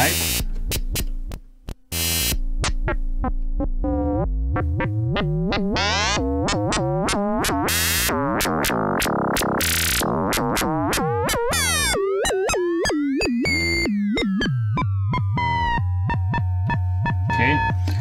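A Joranalogue Filter 8 synth filter module, with an Intellijel Rubicon feeding it, churns out loud zappy, buzzing, sweeping electronic tones that shift pitch constantly for about eighteen seconds.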